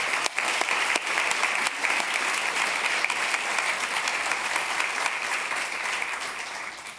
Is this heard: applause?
yes